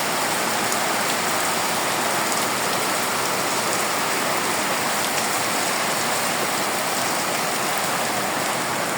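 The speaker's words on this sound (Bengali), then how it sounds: "প্রচণ্ড বৃষ্টি হইতেছে" Heavy rain pours down steadily and densely on a tin-roofed village house, a constant loud drumming roar with no pauses and no voices.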